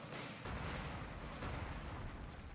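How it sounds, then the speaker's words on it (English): A mortar shell lands in the video game Redcon, a muffled low boom over continuous rumbling battle noise, moderately quiet and sustained across the moment. "Actually, we can stick a mortar shell right there."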